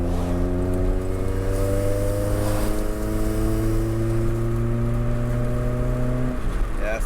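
Honda CRX engine pulling steadily in second gear, a continuous droning hum whose pitch rises slowly as the car accelerates, close and loud from inside the cabin with no talking.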